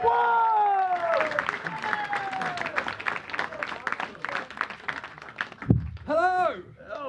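A comedy club audience at Hot Water Comedy Club breaks into dense, sustained applause for a comedian, with crowd noise rising after a host's voice and fading as another voice takes over at the end.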